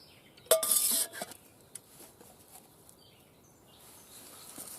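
A short metallic clatter and clink of a metal Pathfinder camping pot being handled up close, followed by a few faint knocks against quiet outdoor ambience.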